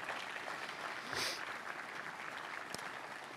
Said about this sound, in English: I want a resounding round of applause for those who created this university